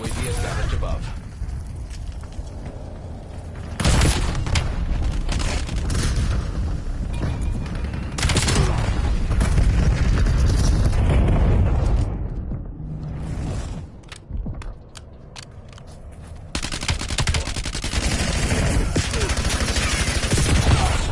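Gunfire in the video game Call of Duty Warzone, loud bursts and sustained automatic fire with booming impacts, coming and going in dense stretches.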